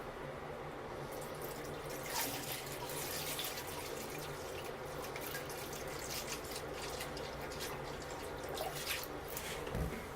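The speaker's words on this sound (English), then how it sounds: "So what we want to do is fill up the toilet bowl so we can see antifreeze." Antifreeze poured into a toilet bowl to fill it, a faint continuous trickle and splash of liquid running steadily throughout with small drips, no voices.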